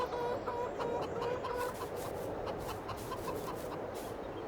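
About thirty chickens cluck repeatedly on a farm in Farming Simulator 22, a busy overlapping chorus of short clucks heard fairly close with no talking.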